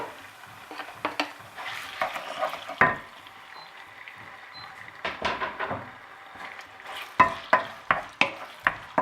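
Sliced chicken meat browning in a pan, with repeated sharp scraping and stirring clatters over a low steady sizzle.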